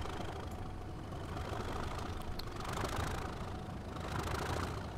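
A Class 37 diesel locomotive on the Wherry Lines from Norwich to Great Yarmouth in Train Simulator 2016 throbs with a heavy, steady rumble that swells gently twice as it gets under way. The engine sounds close and continuous, with no voices.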